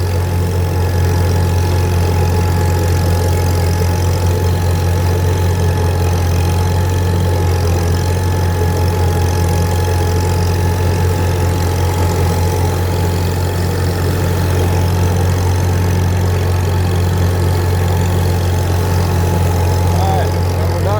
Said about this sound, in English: I gotta fire the blades back up on this dude here.